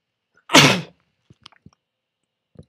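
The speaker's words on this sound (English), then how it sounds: "Gotta sneeze." A single loud, close sneeze bursts out, followed by a few faint clicks and small shuffling sounds in an otherwise quiet room.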